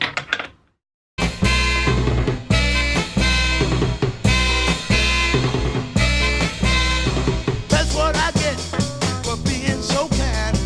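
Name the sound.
up-tempo funk record playing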